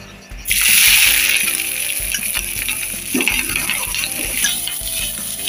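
Cut bitter gourd pieces hit hot oil in a heated kadai, giving a loud sudden burst of sizzling hiss that settles into steady frying with occasional stirring scrapes, close up and without talk.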